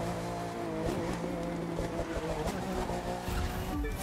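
A Lamborghini Aventador in The Crew 2 racing game drifts with sustained tire squeal over a loud, steady engine roar, ending with a burst of skidding.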